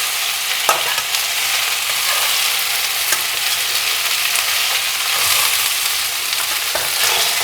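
Okra and onion frying in oil in a kadai while being stirred continuously, a dense, loud, steady sizzle with occasional scraping spoon strokes against the pan bottom.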